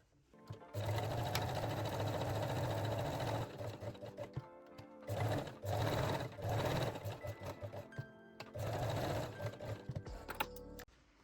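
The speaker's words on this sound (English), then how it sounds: "Now I am leaving the needle in the fabric and switching to long straight stitch." A sewing machine runs a long straight stitch through lace in several rapid mechanical bursts, separated by short pauses, close and clear with no talking.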